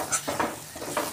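Gram flour masala being stirred and sautéed in oil for an egg curry, soft close sizzling under a few quick scraping spoon strokes against the pan.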